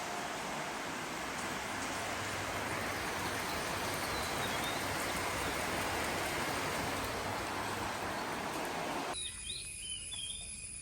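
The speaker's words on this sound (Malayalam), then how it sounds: "മഴ കാണിച്ചു തരാം." Rain falls steadily outdoors on a summer day, a dense, loud, unbroken hiss with faint insect and bird calls mixed in, cutting off abruptly near the end.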